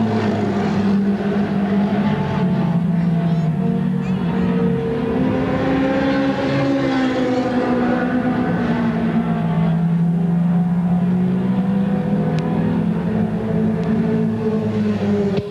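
Race cars roar around Cherokee Speedway during the 1994 Blue-Gray 100, a loud, continuous engine drone with pitch rising and falling as the field laps close by, with no talk over it.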